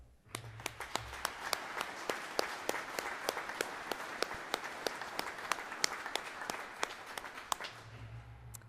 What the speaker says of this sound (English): I think you deserve the next round of applause.